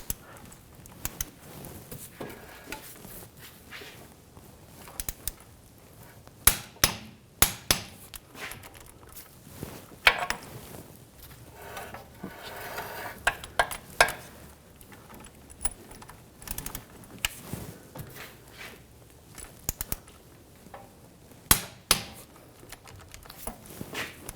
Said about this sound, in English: I'll just go around the whole way and torque the other ones.